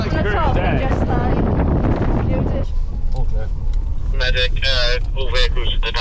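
Heavy wind buffets the microphone with a constant loud roar at the Red Bull Hardline mountain bike event, while people talk over it.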